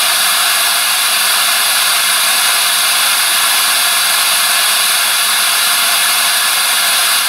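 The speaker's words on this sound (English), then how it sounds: "We got our Tesla turbine all set up." A bladeless Tesla turbine spinning up, giving a steady, loud broadband whoosh and hiss like rushing air that holds constant throughout with no voices.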